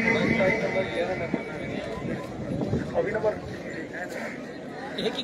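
Horses gallop past at a tent-pegging race in Jhelum, Pakistan, with hoof clatter and a whinny rising among a busy outdoor crowd while an announcer speaks over the loudspeaker throughout.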